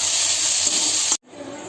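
Pihari mushroom greens sizzle and crackle steadily in a hot pan, a loud continuous hiss that cuts off abruptly and returns softer.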